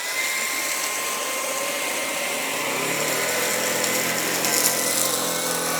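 Shark Detect Pro cordless stick vacuum on auto detect mode cleaning thick carpet strewn with hair and cereal, a steady close motor whine with a brush-roll hum that stays even throughout.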